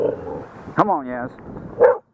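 A dog close by barks at a driftwood log in a river, giving a short whining yelp and a sharp bark over steady background noise.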